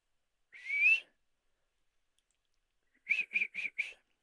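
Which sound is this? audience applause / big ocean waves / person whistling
person whistling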